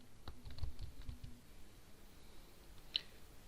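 A computer keyboard is typed on in a quiet room, with a light cluster of soft key clicks at first, then a pause and a single sharper click.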